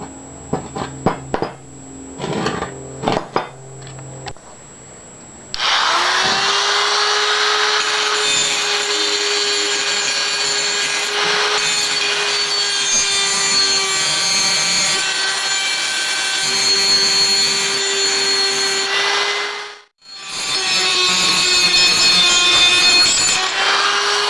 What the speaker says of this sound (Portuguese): Agora que eu já desbastei a solda